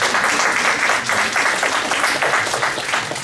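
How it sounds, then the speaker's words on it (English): A conference keynote audience breaks into applause, dense, loud clapping from many hands that holds steady throughout. "Clap for it."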